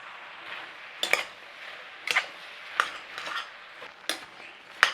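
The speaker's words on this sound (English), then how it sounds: "start these apples off like this to break down, then we'll put some spice in and some sugar in" Apples softening in a pan for an Irish potato-pastry apple cake, a soft continuous sizzle broken by sharp utensil clinks and scrapes against the pan as they are stirred, close and fairly quiet, no voices.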